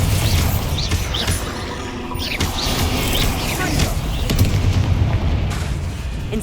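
Bombarda spell explosion in the Hogwarts Legacy video game, several booming bursts and rumbling impacts in a dense combat mix, with talk in the background.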